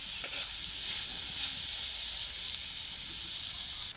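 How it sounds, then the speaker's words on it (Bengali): Soy sauce hitting a hot pan of chicken and vegetables gives a steady, close hiss that sizzles on without a break, with faint crackles under it and no talk. "এই যে আমি কিছুটা সয়া সস দিয়ে দিচ্ছি"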